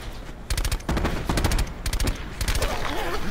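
Rapid gunfire in a multiplayer squad shooter game with snipers on the map, sharp close shots in quick clustered bursts with short gaps between them, loud throughout.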